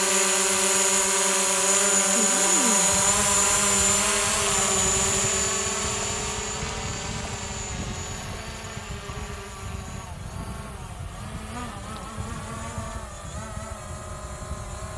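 A DJI Mavic Pro quadcopter drone flies close by with a steady high-pitched propeller whine and tonal buzz, a low thump fading early, then settling into a smooth, even hum.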